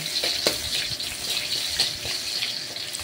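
Garlic sizzles and crackles in hot cooking oil at the start of a mung bean sauté, a steady bright hiss with scattered sharp pops, close and alone without talk.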